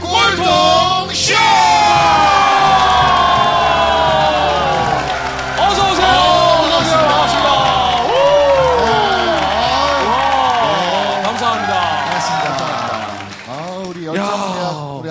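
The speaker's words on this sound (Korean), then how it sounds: "오늘 함성 소리가 유난히 다른 네" A studio audience at a Korean variety comedy show yells, whoops and cheers loudly and continuously. The roar stays dense and close for most of the stretch, then fades near the end.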